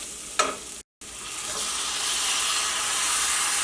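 Chicken goes into a hot pan of warmed spices for a Kerala chicken stew and sets off a loud, close sizzle after a brief clatter, then a steady hiss of frying that grows slightly stronger.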